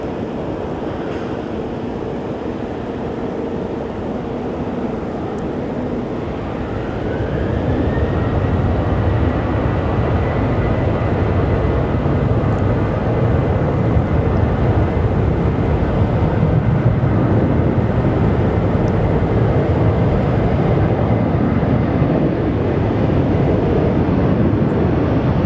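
A Frontier Airlines jet at Phoenix Sky Harbor airport roars steadily, its engine rumble swelling after a few seconds and holding loud and broad, with a rising whine and wind buffeting the microphone.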